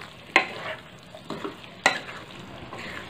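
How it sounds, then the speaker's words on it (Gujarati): A spoon stirs spices through capsicum sabzi with tomato in a pan, giving two sharp scraping strokes over a low background sizzle, close and fairly quiet. "હવે આપણે બધા મસાલાને મિક્સ કરી લઈશું."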